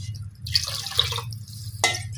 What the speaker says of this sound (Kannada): 3 ಗ್ಲಾಸ್ ಅಕ್ಕಿ ನೀರು ಹಾಕ್ಕೊತಾ ಇದ್ದೀನಿ